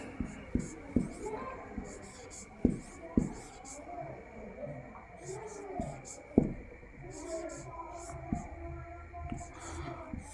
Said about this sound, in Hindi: तो चलिए हम लिखते हैं पहले बोमेन संपुट को